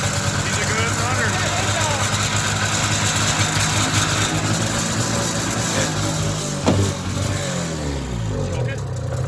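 A high-mileage Polaris 340 snowmobile engine runs steadily at idle with a continuous mid-pitched drone, briefly rising once partway through, while people talk nearby.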